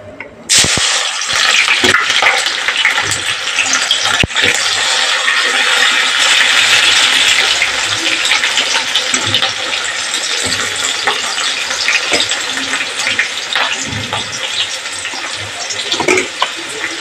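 Sliced onions hit hot coconut oil in a pan for chicken curry and set off a loud, steady sizzle that hisses on continuously, with occasional clinks and scrapes close by.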